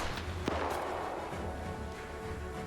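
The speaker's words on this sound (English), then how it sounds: "Roland might have heard those gunshots" Distant gunfire in an Arma 3 World War Two PvP battle between Italian and Russian forces, a few sharp cracks over a constant rumbling battlefield ambience, no talk.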